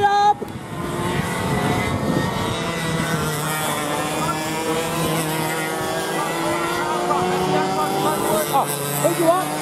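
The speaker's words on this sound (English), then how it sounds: "He is now going to start to wind that kart up." Racing kart engine winding up at a kart track, a steady buzzing drone with climbing pitch, moderately close, with a voice talking over it.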